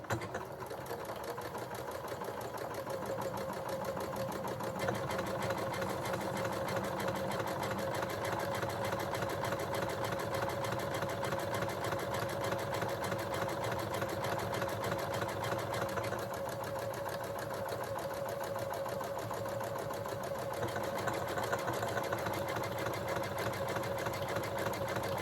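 A sewing machine stitches a skirt in a steady, continuous mechanical whir that runs close and even, with no talking, for nearly the whole stretch.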